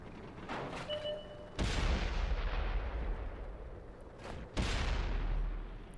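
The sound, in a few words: tank cannon fire in the video game World of Tanks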